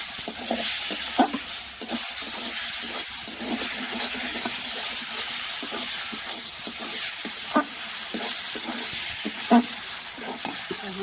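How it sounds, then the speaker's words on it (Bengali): Fried rice being stirred into a fish head curry in a pan, a continuous loud sizzle and hiss with repeated scraping stirs throughout, no voices. "চাল ভাজাটা দিয়ে নাড়াচাড়া করবো"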